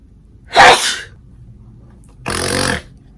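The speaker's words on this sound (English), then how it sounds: "I start to sneeze a lot." Two loud, close human sneezes come about two seconds apart, each a sharp explosive burst of breath in a quiet indoor room, with faint background hum between them.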